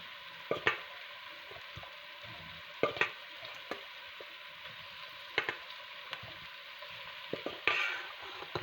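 Pork with garlic is stirred and frying in a pan, with a steady quiet sizzle and intermittent sharp clacks of a utensil against the pan, close and without talk.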